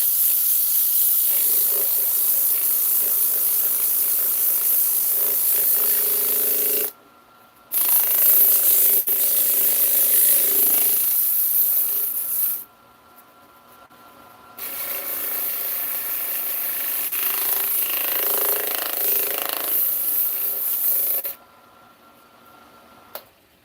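Sandpaper rubbing over wood in long, steady strokes, fairly close and loud, broken by three short pauses between passes; no talking during the sanding.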